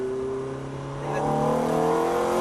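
A Ferrari F430 accelerating on a race track, its engine note rising steadily into a loud, sustained high-revving wail heard from inside or close by, with no talking.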